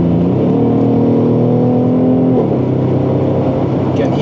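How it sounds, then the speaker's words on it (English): Loud engine revving up as a 2017 Mercedes-Benz GLE 450 AMG SUV accelerates in Sport Plus mode, pitch climbing then dropping sharply at a gear change before rising again. "You can hear the upshifts sound very nice. Amazing noise."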